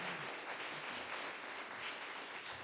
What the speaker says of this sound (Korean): 우리 전달할 때 따뜻한 박수 한번 부탁드리겠습니다.